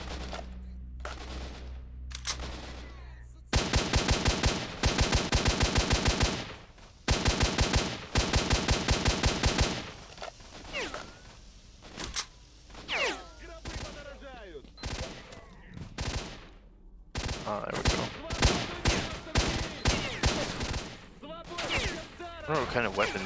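Gunfire in S.T.A.L.K.E.R.: Shadow of Chernobyl, with loud, rapid automatic bursts coming in several long runs, then sparser single shots and scattered bursts, and a person talking between them.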